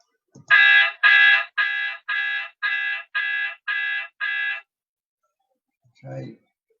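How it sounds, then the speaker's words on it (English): A cartoon honk effect from Scratch coding blocks, sounding eight times in a quick steady loop, loud and close, the first two blasts longest; after a pause a brief low voice sound follows. "Let's have that one, the honk."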